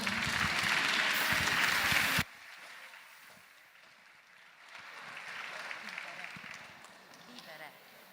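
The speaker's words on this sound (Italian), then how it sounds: "Applauso." Applause from a crowd at a live choir performance in Ollolai, Sardinia, a loud burst of dense clapping for about two seconds that cuts off abruptly, followed by quieter room murmur and shuffling.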